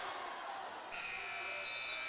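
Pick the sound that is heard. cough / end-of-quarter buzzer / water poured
end-of-quarter buzzer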